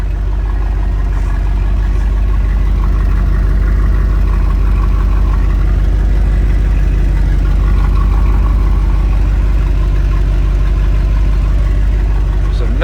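A 1965 Ford Thunderbird idles steadily with a low, quiet exhaust rumble heard from the back, continuous and even throughout with no talk over it.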